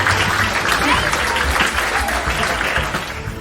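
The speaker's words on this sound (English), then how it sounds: "Give it 2 applause." Audience applause fills the room at a live motivational seminar, steady dense clapping throughout with a broad crowd wash and no distinct speech.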